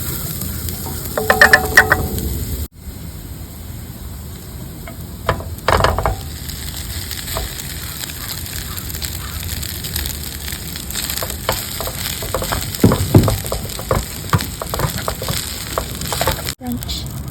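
Dried salted sardines (tuyo) sizzle and crackle as they fry in a pan, a steady hiss with scattered pops and occasional stirring and clattering, while a person speaks now and then.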